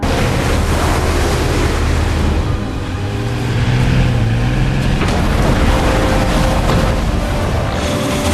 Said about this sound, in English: Amid the storm, waves rolled one after another.